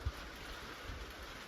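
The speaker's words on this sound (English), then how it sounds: "Rain showers again." Steady afternoon rain shower in the Colorado mountains at a small off-grid cabin among tall pines, a soft continuous hiss of falling drops with no voices.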